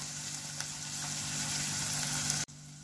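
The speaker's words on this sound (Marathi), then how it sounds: "कांदा अजून व्यवस्थित असा मऊ होऊन द्यायचा तेलामध्ये" Chopped onion frying in hot oil in a pan for egg curry, a steady close sizzle with a faint low hum beneath, cut off abruptly near the end.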